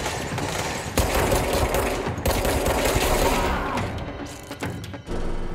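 Sniper gunfire in the video game Control, a dense run of loud, close shots and mechanical clatter over several seconds, with a few sharp bursts standing out toward the end.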